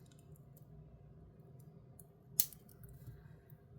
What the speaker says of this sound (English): And then I'm going to snip off this excess.